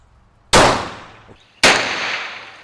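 Two loud gunshots from a Smith & Wesson .38 Special police revolver fired at a range, spaced about a second apart, each a sharp crack followed by a decaying echo.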